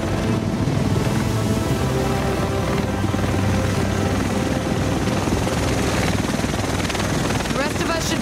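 Helicopter from the video game The Division arriving over Manhattan, a loud steady rotor and engine roar filling the whole span, with voices talking over it.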